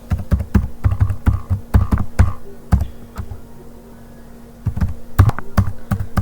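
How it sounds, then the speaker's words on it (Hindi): A TIN number typed on a computer keyboard, with close, crisp key clicks in quick clusters, a brief pause midway, then another burst of typing. "यहाँ पे आपको टिन नंबर टाइप कर लेना है।"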